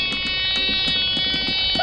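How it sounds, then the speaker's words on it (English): A loud electric buzzer sounds aboard a solar boat, a harsh steady drone with a rapid pulsing beat that runs unbroken through the whole short stretch. "apparently the buzzer's here."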